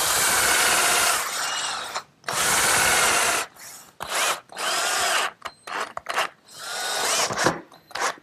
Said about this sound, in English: I'll pre-drill for 1 1/4 inch screws